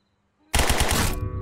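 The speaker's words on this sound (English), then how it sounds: "Oh, I put so many rounds into you." Sustained automatic gunfire from the Zero Hour video game, starting abruptly after near silence and hammering on loud and close in a rapid, even stream for about a second.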